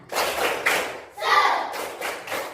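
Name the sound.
class doing the 'tepuk semangat' clapping routine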